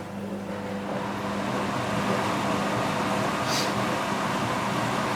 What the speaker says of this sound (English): I will have to turn the fan on because the soldering iron will burn the plastic